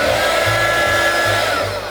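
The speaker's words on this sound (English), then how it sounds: "I will use this hot air gun to blow on this tag." A hot air gun blows steadily on embossing powder sprinkled over a word on a paper tag, making a loud, close, continuous whooshing hum with a faint low pulsing for the whole moment.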